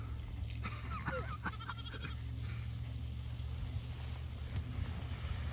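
Sheep from a mixed grazing flock bleat a few times close by as they move into an electronetted paddock, short wavering calls over a low steady hum of wind and background noise.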